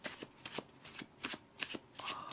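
An Il Meneghello tarot deck with a smooth surface being shuffled by hand, brisk papery bursts of card flicks repeating about twice a second, close and clear with no voices.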